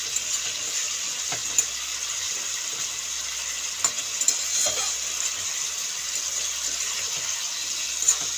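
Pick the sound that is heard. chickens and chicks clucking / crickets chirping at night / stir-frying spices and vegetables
stir-frying spices and vegetables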